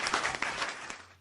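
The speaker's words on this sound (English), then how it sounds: "I had cheer and applause coming up." A recorded cheer-and-applause sound effect plays back briefly and faintly, a wash of crowd clapping that fades away within about a second.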